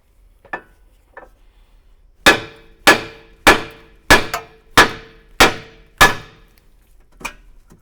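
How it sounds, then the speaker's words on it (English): Hammer blows ring out on a BMW control arm's inboard joint: seven sharp, evenly spaced metallic strikes close by, followed by one lighter tap, with a couple of faint knocks before them. "I'm going to hit the hammer here."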